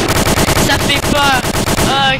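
Rapid gunfire rings out in a video game, with repeated loud, close shots in a fast rhythm. Some of the bursts have metallic ringing tails.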